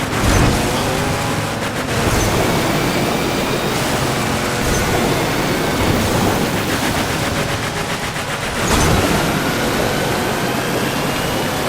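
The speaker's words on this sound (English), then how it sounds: "It is a fast truck being driven very fast." A fast truck roars at high speed in the off-road racing game Motorstorm Pacific Rift, a loud, dense, unbroken engine and terrain rumble with gunfire-like crackle, close and without talking.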